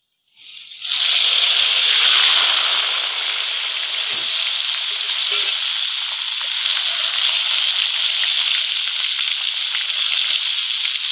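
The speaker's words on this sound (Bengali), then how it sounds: "এবার এই তেলের মধ্যে আলুগুলা ভাজি লিবা।" Potatoes frying in hot oil for chicken kacchi biryani: a loud, steady, bright sizzle bursts in after about a second of silence and holds without a break, with no talking.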